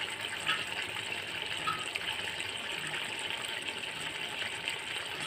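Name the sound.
tamarind water being poured into a cooking pot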